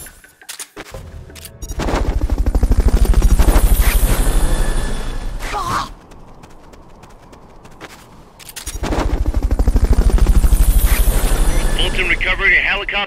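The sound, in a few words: Fulton recovery helicopter in video game Metal Gear Solid: Peace Walker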